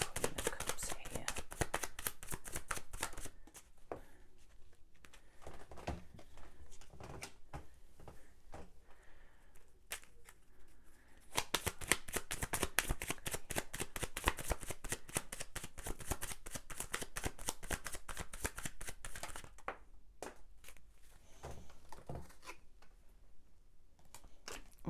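Tarot cards shuffled and riffled over and over in a dense run of crisp, rapid flicks, close and steady, easing briefly around the middle and again near the end, with no talking.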